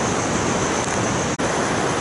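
Ocean waves washing onto a sandy beach on Palawan in the Philippines, a continuous broad roar of surf close by, steady and loud with a brief dropout near the end.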